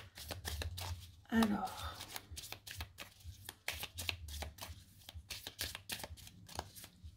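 Oracle cards are cut and handled in short papery snaps and slides, several quick bursts close by, with a speaker talking in French between them.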